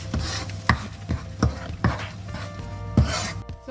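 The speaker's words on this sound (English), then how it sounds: "I am adding onion tomato paste into it. Mix it well" Onion tomato paste stirred in a pan for paneer butter masala, a spoon scraping in steady rhythmic strokes with soft thuds about every half second, close and clear with no talking.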